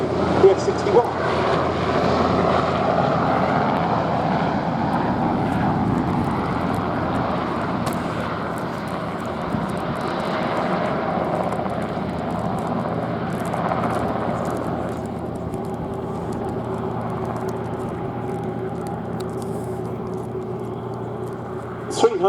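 A Westland Wessex helicopter flies overhead at an air display, its turbine and rotor drone steady and fairly loud throughout, with a commentator's voice running over it.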